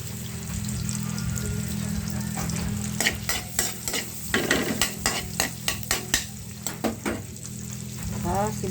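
Butter bubbling and sizzling in a pan as garlic goes in, a steady close fry with a series of sharp scraping and clinking stirs partway through.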